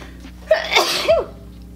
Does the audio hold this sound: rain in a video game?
no